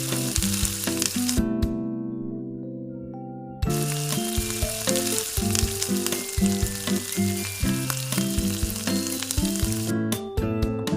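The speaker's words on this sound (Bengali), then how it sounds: "ভালো করে নেড়ে চেড়ে পনিরটা ভেজে নেব" Paneer fries in oil in a pan with a loud, continuous sizzle, stirred now and then, under steady background music with a short pause in the middle; nobody talks.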